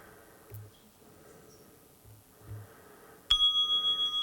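A meditation bell rings once near the end, a bright sustained metallic tone with pulsing decay, after a few quiet soft knocks in an otherwise still room.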